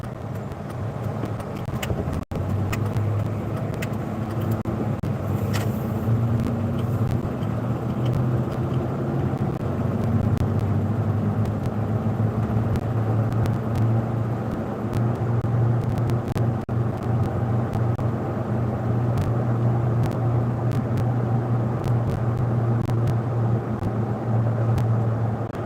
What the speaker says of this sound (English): It's multiple trucks.